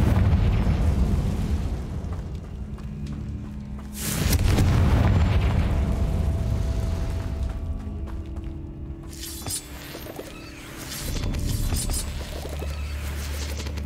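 Confringo spell blasts in Hogwarts Legacy burst as deep booming explosions, two big hits standing out amid rumbling game effects and lingering debris noise.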